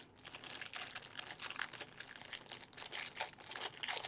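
Plastic bag crinkles in quick, close bursts of rustling as cut pieces of Kneadatite epoxy putty are pushed back inside, no talking over it.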